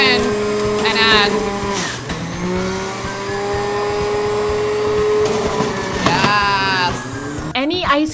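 An ice cream machine running on its super turbo setting, a loud steady motor whine with sharp rising bursts as it starts up, while people talk and exclaim over it.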